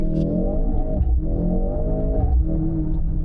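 Mercedes-AMG C63 S Hybrid engine in race mode dropping a gear, a loud, close mechanical drone with a rising rev and a short pulse at the downshift, no talk.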